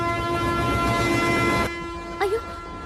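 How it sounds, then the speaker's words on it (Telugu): A passenger train on the Godavari route begins pulling out of a station: a loud, steady rumble with hum for over a second, then quieter, followed by a short rising toot or whistle near the end. "అయ్యో, ట్రైన్ స్టార్ట్ అయింది."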